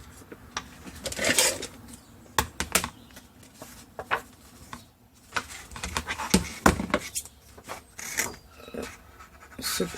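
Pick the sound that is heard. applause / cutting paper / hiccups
cutting paper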